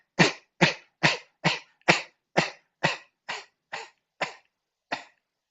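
Eleven sharp coughs in a steady series, evenly spaced at first and then slowing, each one loud and close, with no talking around them during a group healing class.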